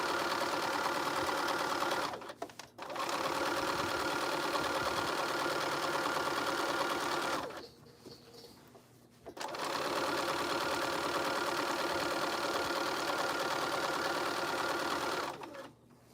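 A sewing machine hums steadily through a long run of stitching on a seam for pants, loud and close, pausing briefly twice before resuming.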